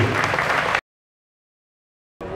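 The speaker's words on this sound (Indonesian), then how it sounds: "tepuk tangan untuk CNC" Audience applause at a film festival awards night, a dense wash of clapping that cuts off abruptly into silence, then resumes briefly at the end.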